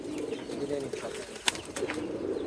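Pigeons and young pigeon chicks at a home loft give low, soft coos and faint chirps under a voice, with a short sharp knock or flap partway through.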